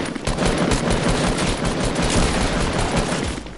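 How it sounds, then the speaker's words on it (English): Rapid, sustained automatic gunfire from the Fortnite video game, loud and dense throughout with no pauses. "Yeah, I'm getting shot at."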